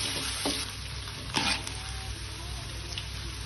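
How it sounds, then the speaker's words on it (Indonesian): Shallots sautéing in a pan for shrimp in oyster sauce, a continuous close sizzle with a couple of brief stirring scrapes over it. "Kita tumis sampai berbau harum ya, sampai wangi."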